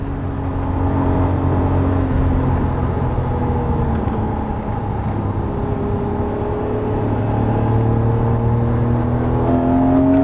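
A Lamborghini Murciélago engine roars loud and steady on the Las Vegas Motor Speedway track, its sustained rising and falling drone filling the whole stretch with no talk over it.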